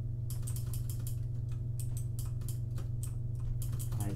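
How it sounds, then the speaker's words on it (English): Rapid, loud clacking from a mechanical computer keyboard sitting right beside the microphone, in irregular bursts of keystrokes over a steady low hum during PC gaming. "I do apologize for my mechanical keyboard. It's really fucking loud."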